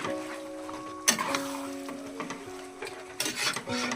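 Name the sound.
chili chicken being stirred in a frying pan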